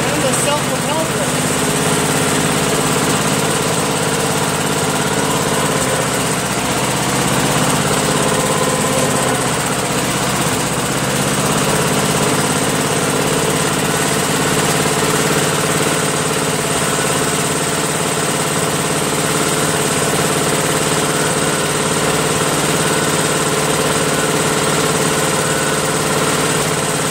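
A Craftsman Eager 1 self-propelled lawn mower with a Tecumseh engine idles after a carburetor rebuild and governor adjustment, giving a steady, close, continuous drone that holds unchanged throughout.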